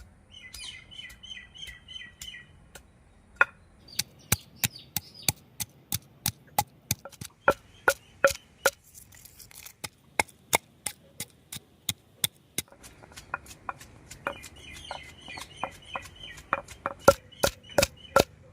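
Fresh ginger pounded by hand in a mortar for tomato rice, a long run of sharp, evenly spaced thuds, close and loud, with birds chirping faintly in the background.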